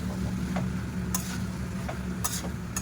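Diced potatoes and cabbage tumble into a pan of browned spices for a soybean mixed-vegetable curry, giving a low steady frying rumble broken by a few sharp clattering scrapes as the pieces land and get stirred.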